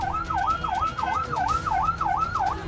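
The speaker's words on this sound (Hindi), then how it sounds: "उस समय आरजेडी के प्रदर्शन में एक एम्बुलेंस फंस गया, जिसे बाद में पुलिस की मदद से निकाला गया" An ambulance siren caught in a street protest march wails in a steady, repeating up-and-down cycle, loud and continuous over a low rumble of traffic and crowd.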